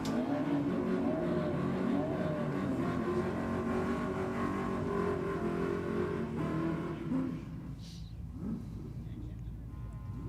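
A Ford FG Falcon and a Toyota Corolla drag racing at Sydney Dragway: loud, sustained engine roar with revving that dominates for about seven seconds, then drops away, with a muffled voice underneath.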